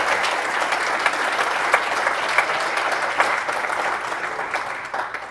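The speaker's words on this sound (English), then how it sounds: "if you could get a round of applause for Dave Altig" An audience at an Economic Club of Miami event gives a sustained round of applause for Dave Altig, dense even clapping with occasional sharper claps throughout, no talking.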